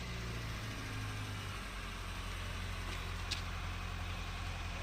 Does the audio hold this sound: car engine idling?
yes